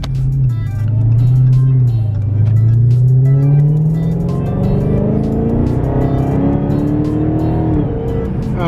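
A Dodge Charger Hellcat engine drones loudly from inside the car while driving, its pitch rising and falling smoothly through gear changes in one continuous, strong, deep roar.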